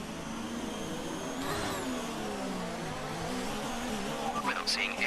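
Race car engine from the F1 2019 video game on a formation lap in Canada, a steady droning whine with shifting revs throughout and a brief tire-like squeal near the end.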